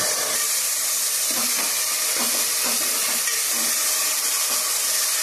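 Tomatoes and onions sizzle steadily in a pan for gongura chicken, a loud continuous frying hiss broken by a few soft stirring scrapes.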